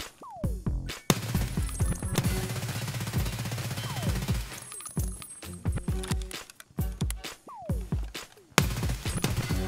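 Full-auto gunfire in Escape from Tarkov, with repeated rapid bursts of shots that ring out in tight strings, broken by brief pauses, loud and close throughout.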